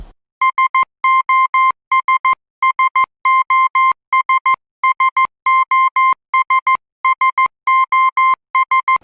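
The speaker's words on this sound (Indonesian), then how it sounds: "Siapapun di area yang bisa mendengar Morse code ini" A clear electronic tone beeps out the Morse SOS signal repeatedly, three short, three long, three short, over and over with no other sound.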